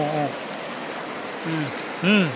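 Strong stream current rushing steadily near a crab-catching spot, a continuous broadband wash with brief voices talking over it.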